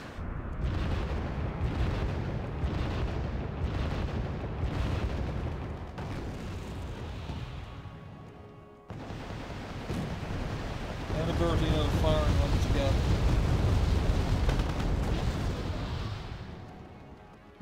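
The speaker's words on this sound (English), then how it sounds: "And we got artillery." Artillery fire in the Wargame Red Dragon strategy video game: repeated heavy booming blasts and a continuous roar of distant explosions, with a brief break midway before a denser barrage resumes.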